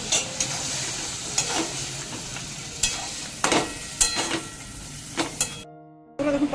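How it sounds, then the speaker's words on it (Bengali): A straw mushroom mixture fries over low to medium heat, hissing steadily while a spatula scrapes and stirs it in the pan with irregular clatters, close and without voices, and the sound cuts out briefly near the end. "মাঝে মাঝে নাড়াচাড়া করে এটা 8 থেকে 10 মিনিট সময় ধরে লো টু মিডিয়াম"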